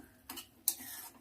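A spoon stirs tomato egg curry in a pan, giving two soft scraping strokes, the second with a sharp metallic clink, close but faint in a quiet kitchen.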